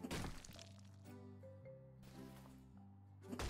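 A wall being demolished in the House Flipper 2 game, with a sharp cracking smash at the start, then lingering tonal debris and rumble, and another crashing impact at the end, loud and close.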